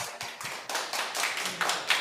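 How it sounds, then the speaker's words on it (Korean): A church congregation claps together in a short, uneven burst of many hands, moderately loud and close, with little talk over it. "하나님께 영광의 박수 올려드리겠습니다."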